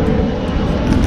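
A fixed-wing aeroplane passes overhead as a steady, continuous broadband drone that holds loud and even throughout, with no talk.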